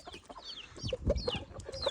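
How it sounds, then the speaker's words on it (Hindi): A rooster clucks in short bursts, with bird chirps and other fowl calls scattered around it, close and fairly clear over faint background noise. "अरे मुर्गा वहाँ देख रहा है कि भाई आप यहाँ क्या कर रहे हो"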